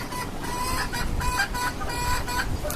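Desi chickens kept on a rooftop of a five-storey house cluck repeatedly at moderate distance, with short rhythmic calls over a steady background hiss and no speech.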